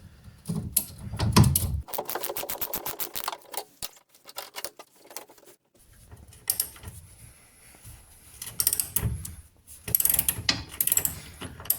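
Ratchet clicking while leaf spring bolts are undone on a Reliant Kitten, quick bursts of close ratcheting with pauses and metallic handling between them.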